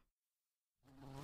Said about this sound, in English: Oh no, a giant bee!